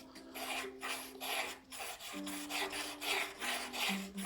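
A high-speed steel lathe tool bit is rubbed back and forth on sandpaper, giving steady rasping strokes about twice a second, close and fairly quiet with no voices.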